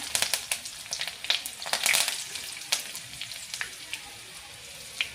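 Cumin, garlic cloves and curry leaves crackle and sizzle in hot oil for a whole masoor masala, loud sputtering pops bursting in quick clusters and then thinning to occasional spits.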